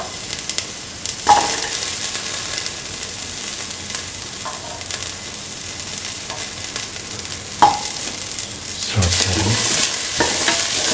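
Garlic and shallots sauté in a pan, a constant close sizzle broken by several sharp spatula scrapes and stirs, growing louder and busier toward the end.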